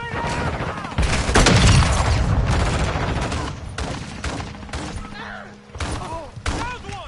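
A stun grenade goes off with a loud, heavy blast in Modern Warfare 2 amid rapid gunfire, while shouting soldier voices cut in and out around it.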